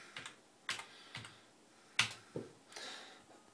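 Keys are pressed one at a time on a computer keyboard while a command is typed. Sharp, close clicks come in an uneven rhythm, with no talking.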